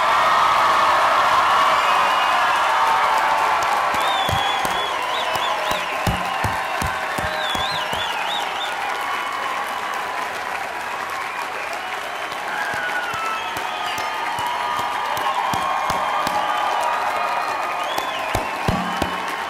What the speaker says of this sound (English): Let's give one more round of applause for the class of 2009.